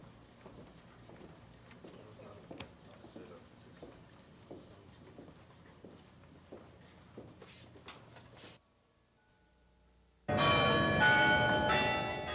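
Church bells toll in a steady, ringing rhythm for several seconds, then a brief quiet gap before a loud burst of rushing noise.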